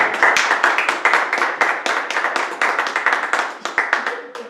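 A church congregation clapping in rhythmic acclamation for the Lord, many hands beating a fast, even pulse, loud and close, with voices mixed in beneath.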